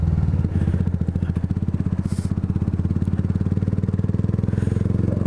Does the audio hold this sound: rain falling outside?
no